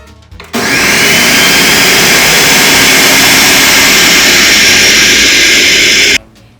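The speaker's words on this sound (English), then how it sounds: "we are ready to blend everything together" A blender roars steadily for about six seconds as it purées a corn soufflé mixture, loud and close, starting and stopping abruptly.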